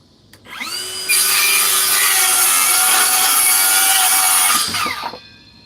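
A Milwaukee 6.5-inch cordless circular saw with a forged battery spins up with a high whine, cuts steadily through wood for about four seconds at close range and loud, then winds down; no talking.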